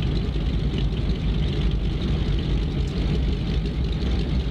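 The engine of a DHC-2 Beaver floatplane runs in X-Plane 11, a steady low droning rumble that holds loud and even from start to end.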